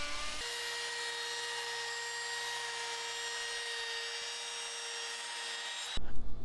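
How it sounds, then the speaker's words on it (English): A router squares the edges of wooden guitar body blanks, guided along a straight piece of wood, producing a steady, loud high-pitched whine that holds evenly for several seconds before cutting off near the end. "I didn't have access to a table saw, so I used a router and a straight piece of wood to try to get squared edges."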